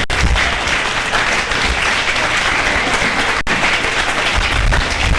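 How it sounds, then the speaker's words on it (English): Loud, dense applause from an audience at a city candidate forum, continuous clapping filling the whole stretch without letup. "Everyone give him a round of applause"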